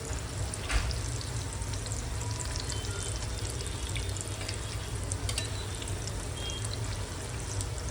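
Dal vada frying in hot oil over a low gas flame, a steady close-up sizzle and bubbling with occasional sharper pops, continuous and fairly quiet with no talking.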